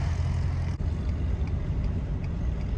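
A truck engine idles with a low, steady rumble close by, cycled between idle and higher revs to seat the rings, and it holds a fairly even drone throughout.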